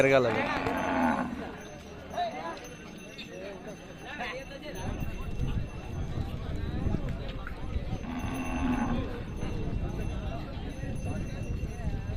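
Oxen and cattle mill about at a busy rural livestock market, with shuffling hooves, occasional lowing and a constant crowd murmur as people talk nearby.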